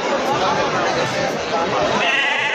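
Goats bleat repeatedly in a busy village goat market in Bangladesh, mixed into a dense crowd chatter and close talking.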